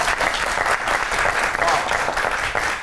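Studio audience applause on the comedy talk show Tanz o Maza, a steady, fairly loud roll of many hands clapping for the whole stretch, with talk faintly underneath.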